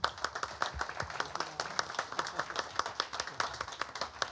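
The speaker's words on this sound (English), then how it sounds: "I want to Thank give you you. a round of applause" A small group applauds at a city commission meeting in Pharr, steady crisp handclaps close by, with a few voices under the clapping.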